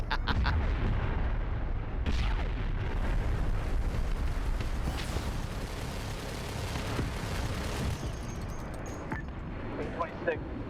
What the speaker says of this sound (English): they're doing another wall bombing